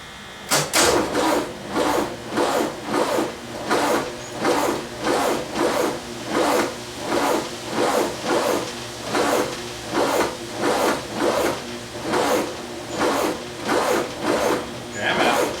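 Starter cranking the engine of a VW double cab, a steady rhythmic chug of about two turns per second that repeats evenly for the whole stretch without catching, close and fairly loud.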